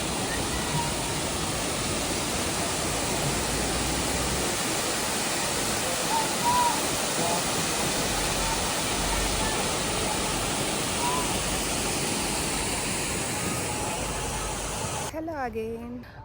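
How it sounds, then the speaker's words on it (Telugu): Duden waterfall, reached through a cave: a loud, constant, broadband roar of rushing, crashing water heard up close, unchanging for a long stretch before cutting off abruptly at the end. "దీన్ని డుడెన్ వాటర్ ఫాల్స్ అంటారు."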